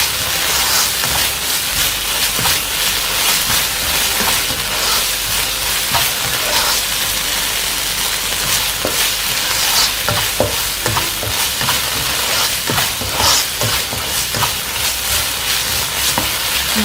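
Mushroom biryani masala stirred and sautéed in a pan, a steady close sizzle and frying hiss with repeated scraping strokes of a spoon throughout, no talking.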